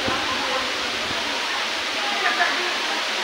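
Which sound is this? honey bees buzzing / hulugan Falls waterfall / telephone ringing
hulugan Falls waterfall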